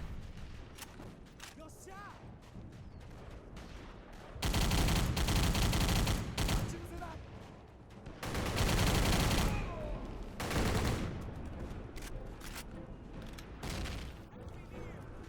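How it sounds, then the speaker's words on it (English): Automatic-weapon gunfire in a trench battle in a war video game: sputtering shots at moderate level, broken by three loud sustained bursts of rapid fire. "I'm picking up the automatic weapon as it's great for fighting in the trenches."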